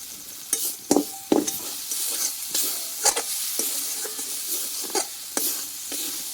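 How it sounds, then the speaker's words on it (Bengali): Masala spices fry in oil while being stirred for an okra curry, giving a steady soft sizzle broken by repeated scraping stir strokes at close range, with no talking. "ভালোভাবে কষিয়ে নিয়েছি এখন চারিদিক দিকে তেলটা কিন্তু ছেড়ে দিয়েছে মশলা থেকে"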